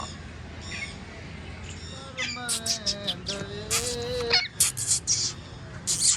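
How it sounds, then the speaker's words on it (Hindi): Parrots squawk in a zoo enclosure, a mix of harsh screeches and chirpy calls that start faintly and grow loud and dense in repeated bursts through the second half. "इस साइड ते हैं पैरेट तोते"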